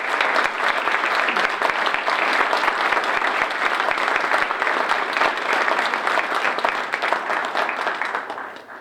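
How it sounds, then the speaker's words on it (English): A hall audience at an academic recognition ceremony breaks into sustained, loud, even applause lasting several seconds, tapering slightly at the end. "Please join me in a round of applause in appreciation of these campus friends."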